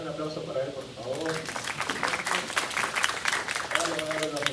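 An audience at a research-design course session applauds in a dense burst of clapping that swells and stays fairly close, with a speaking voice over it at the start and end.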